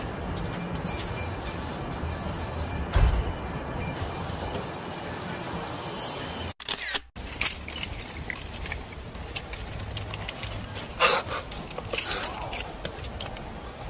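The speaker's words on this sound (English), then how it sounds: "moving the train to the yard" Train in Sydney moving toward the yard, heard as a steady rumble and rattle of rail cars with clanks and metallic squeals, a sharp break midway, and voices occasionally underneath.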